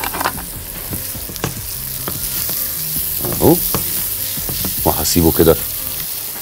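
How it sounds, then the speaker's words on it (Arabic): Onions fry in oil in a home kitchen, giving a steady sizzle with scraping stirring sounds and clatters of a spoon against the pan, while a voice speaks briefly over it. "نزل البصل في الزيت"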